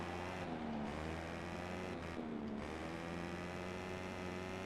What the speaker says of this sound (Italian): anche il ventilatore si sente